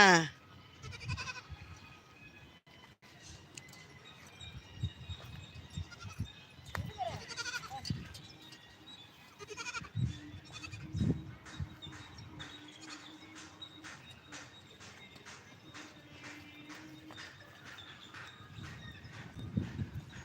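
A young goat bleats a few times amid people talking, footsteps and rustling outdoors, with a steady clicking rhythm in the background.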